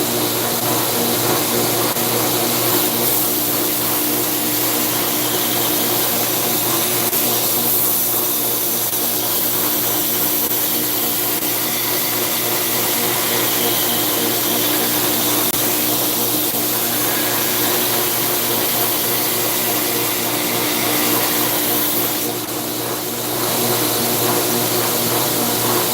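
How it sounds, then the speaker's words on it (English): A belt grinder runs continuously in a workshop, a loud, steady abrasive whine with a humming motor tone that barely varies for the whole stretch, no talk. "Grinding time."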